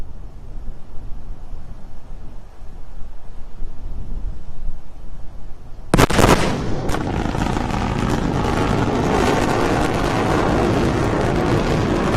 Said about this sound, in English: Now, when this woman says sonic boom, this is what we're talking about here